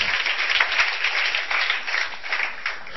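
A church congregation applauds in a steady, dense wash of clapping that continues without a break from start to finish.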